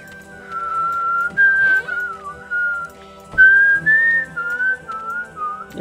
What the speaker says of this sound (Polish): Nie powinienem gwizdać